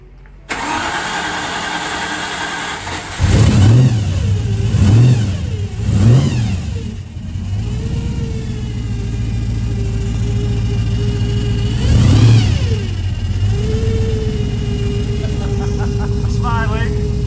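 A supercharged V8 engine cranks and starts, then revs sharply several times before settling into a rumbling idle with another rev; voices talk over it.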